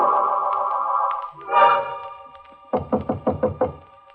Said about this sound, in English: He knocks on my door.